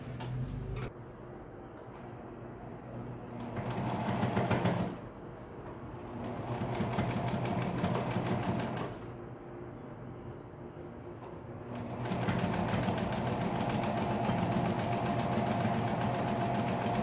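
Sewing machine running fast, continuous stitching along the edge of a percale duvet, in several long bursts with brief pauses between; steady, close and loud, no talk.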